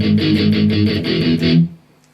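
Electric guitar playing a short repeated riff from a song, with rhythmic picked notes and strums, close and loud, then stopping abruptly and leaving a brief quiet tail.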